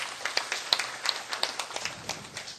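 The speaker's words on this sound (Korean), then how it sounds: "박수로 대신 좀 격려 좀 해주시고요." A small group at a district office meeting claps briefly in encouragement, a sparse, uneven patter of close individual handclaps that thins out toward the end.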